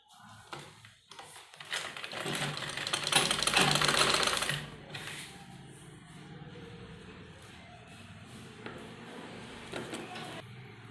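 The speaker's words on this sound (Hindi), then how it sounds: "और यहाँ पर सिलाई लगाएंगे इस तरह से" A sewing machine runs in a fast burst while stitching the shoulder seam of a kurti, whirring loudly for a couple of seconds before settling into quieter handling noises with faint rattles.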